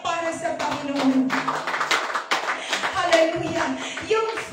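Church congregation clapping in praise to the Lord during a worship service, a steady dense patter of many hands mixed with voices and singing.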